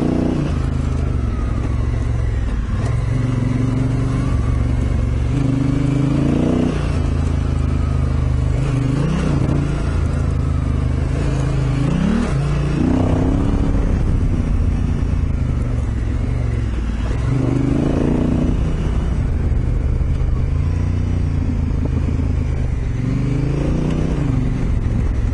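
Motorcycle engine climbing a hill with gear changes, a loud continuous low drone whose pitch rises and drops repeatedly as it revs up and shifts, steady and close throughout.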